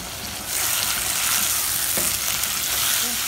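Tomatoes fry in a pan of dried prawns, a bright, steady sizzle that jumps louder after a quieter first half second and keeps hissing close up, with faint stirring scrapes and no voices.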